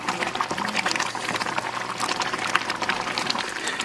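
A rau rau leaf mixture bubbles and splatters in a pan as its water cooks off, giving continuous close crackling pops and spits in irregular bursts.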